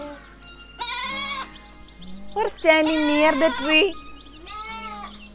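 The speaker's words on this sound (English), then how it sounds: "Goat and kid. Goat and kid." Goats bleat repeatedly in wavering, nasal cries, with a person speaking briefly between the calls.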